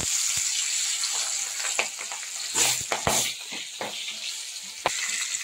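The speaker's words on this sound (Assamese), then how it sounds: "এটা ইয়াত ধুনীয়াকৈ মাছখিনি ভাজি দিম" Fish sizzling and crackling in hot oil, a steady frying hiss with scattered pops and a few clattering knocks.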